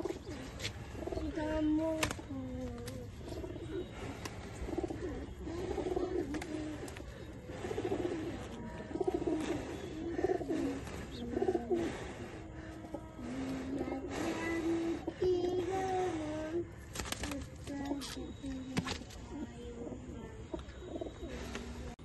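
Pigeons being kept for racing coo near and far in repeated soft, throaty phrases. Faint background voices and rustling run underneath.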